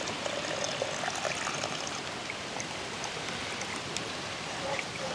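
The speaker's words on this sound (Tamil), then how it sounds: "புளி தண்ணி ஒரு டம்ளர் ஊற்றிருக்கோங்க" Steady splashing pour of tamarind water into a cooking pot, a continuous trickling wash with a few small drips, moderately close and without speech.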